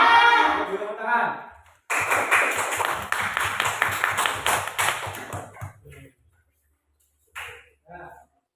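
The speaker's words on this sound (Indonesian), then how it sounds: "Ayo, beri tepuk tangan." Schoolchildren in an elementary classroom clap their hands in a dense burst of about four seconds, preceded by a teacher's voice, with a few scattered claps and voices trailing off afterward.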